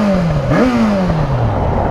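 A Yamaha XJ6 motorcycle with its stock exhaust revs up and winds down close by, the engine note climbing sharply then falling away steadily, loud and without talk.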